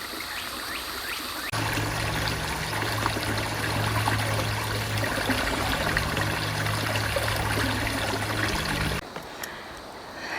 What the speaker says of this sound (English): The water is good, cold, and right now it is flowing strong.